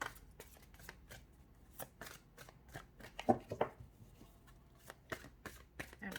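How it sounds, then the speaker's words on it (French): Tarot cards are shuffled and rearranged by hand, giving quiet, irregular riffling and flicking bursts with soft taps between them, close and alone. "Hop, attendez, je remets les cartes correctement."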